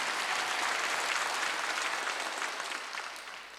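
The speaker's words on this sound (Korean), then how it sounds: "박수 하나 주세요" A Korean church congregation at a Wednesday worship service breaks into sustained, dense applause from a large crowd, steady at first and gradually tapering off toward the end.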